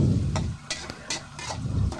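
Chicken adobo being stirred in a pot, with chicken liver and boiled egg in it: a utensil scrapes and clacks in quick, uneven strokes over a low, steady sizzle.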